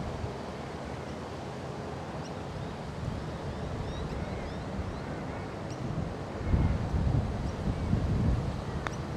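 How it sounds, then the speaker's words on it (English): Breezy wind on an open golf course, a low steady rumble of gusts buffeting the microphone, swelling louder in the last few seconds, with faint distant background sounds. "At least it's gotten breezy."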